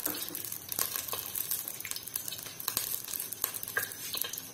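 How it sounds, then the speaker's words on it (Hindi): About two spoons of oil heat in a pot on a stove, giving a steady close sizzle and crackle with scattered sharp pops and light clinks, no voices over it. "पतीला रखा है चूल्हे पे, तेल डालूंगी इसमें। तेल डाला है मैंने इसमें"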